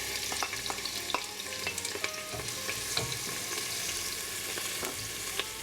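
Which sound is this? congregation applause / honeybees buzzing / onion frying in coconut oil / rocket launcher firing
onion frying in coconut oil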